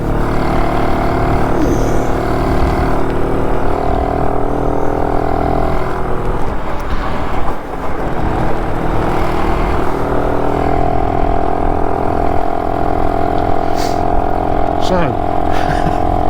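A BSA Bantam motorcycle's engine runs steadily and loudly on a ride out, a constant buzzing drone with a brief dip partway through, as a voice talks over it.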